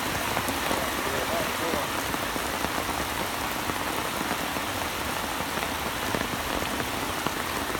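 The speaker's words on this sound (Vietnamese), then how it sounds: "Mưa to lắm mọi người." Heavy rain pours down at an abandoned fishing pond, a dense, continuous hiss of drops drumming on surfaces that stays loud and even from start to finish.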